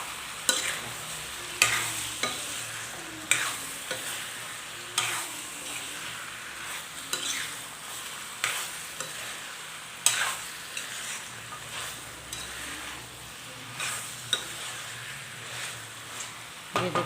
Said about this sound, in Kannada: ಇವಾಗ ಇದನ್ನು ಚೆನ್ನಾಗಿ ಮಿಕ್ಸ್ ಮಾಡ್ತೀನಿ.